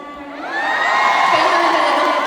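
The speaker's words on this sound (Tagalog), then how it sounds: "Maraming salamat din po sa palakpak at sigaw." A concert crowd cheers and shouts in a large hall, a loud sustained roar of many voices with rising and wavering high-pitched screams that swells after a moment and stays full.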